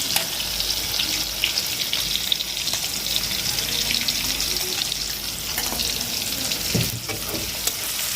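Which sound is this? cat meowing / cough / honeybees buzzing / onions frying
onions frying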